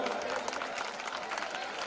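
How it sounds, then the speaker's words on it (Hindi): An audience at a Ramlila performance breaks into dense, steady applause, a continuous wash of many hands clapping at moderate distance, with a voice over the top. "जोरदार तालियां"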